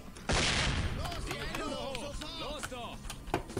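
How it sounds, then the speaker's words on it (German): Gunfire in the tactical shooter S.W.A.T. 4, a sharp loud burst followed by scattered shots and clatter, with people talking over the action. "schießt du dem ins Bein"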